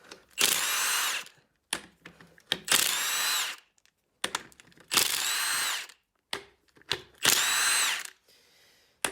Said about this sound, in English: I'm gonna pull this diff cover off. This gun might be a little bit overkill for this